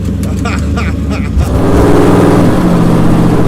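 A loud 1964 Ford Galaxie 500 engine drones steadily from inside the cabin, rising in pitch as it accelerates, with brief talk at the start.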